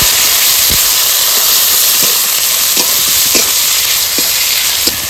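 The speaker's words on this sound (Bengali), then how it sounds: "পেঁয়াজটা বেশ লাল লাল করে ভেজে নেবো" Chopped onion sizzles steadily in hot oil with whole garam masala and a split dried red chilli, as a spatula taps and scrapes the pan now and then; a dense, continuous frying hiss, close and loud, with no talking.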